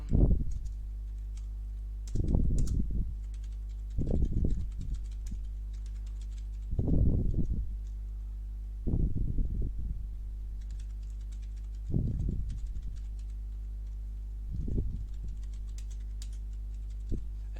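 Keyboard typing while editing a Roblox Studio script, heard as about seven separate bursts of quick key clatter spaced a second or two apart, close and fairly quiet, with no talking.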